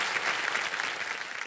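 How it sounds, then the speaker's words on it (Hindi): A studio audience applauds on a TV quiz show, dense steady clapping from many hands filling the room without a break. "तालियां बज जाएं"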